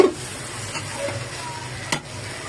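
Chicken fried rice sizzles steadily in a pan while being stirred, a soft continuous frying hiss with one sharp scrape of the utensil near the end.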